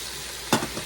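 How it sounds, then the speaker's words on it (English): A full skillet of fresh garden vegetables fries with a constant close hiss, punctuated by one brief, sharp clatter near the middle. "I'm going to let it sit there and fry until I get me a crust on it."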